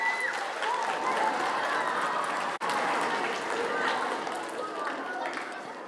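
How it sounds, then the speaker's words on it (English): Loud, sustained applause from a large crowd, with clapping and cheering filling the space and a brief dip partway through. "Give yourselves a round of applause"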